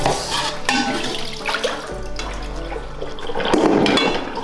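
Water runs and splashes steadily for a few seconds as salted cabbage is rinsed, with faint clinks of dishes and handling noises close by.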